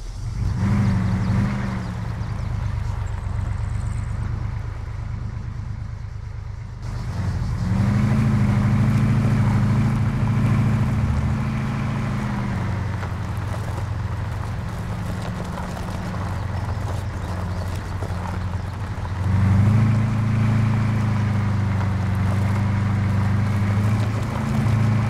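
A military vehicle engine in Arma 3 with the OPTRE mod drones steadily and loudly for the whole stretch, rising in intensity twice as if revving, with no voices over it.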